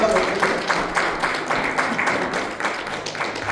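A church congregation claps during a sermon, a rhythmic, patterned burst of hands keeping a loose beat, moderately loud, with faint voices mixed underneath.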